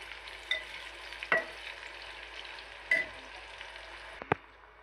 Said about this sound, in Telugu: ఇట్లా ఎర్రగా ఫ్రై చేసుకోవాలి